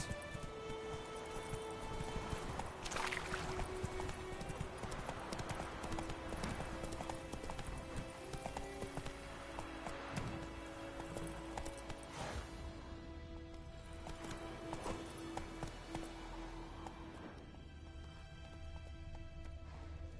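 Horse hooves clip-clop steadily in The Witcher 3, a continuous rhythmic trot at moderate volume with occasional rustling, and no voices are heard.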